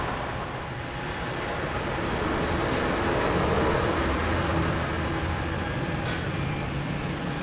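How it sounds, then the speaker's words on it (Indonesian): A hot air rework blower aimed at a Samsung A04 phone circuit board produces a steady, broadband airy rush. It is loud and continuous throughout, with no talk over it. "Kemudian lanjut kita blower."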